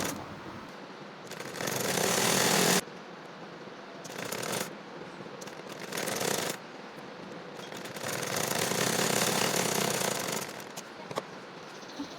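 Sewing machine stitching the side seam of a child's top, rapid mechanical chattering in several bursts of a second or more, separated by brief pauses, close and fairly quiet with no talking.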